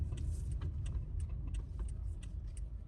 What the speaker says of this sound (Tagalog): Ay, sasakyan.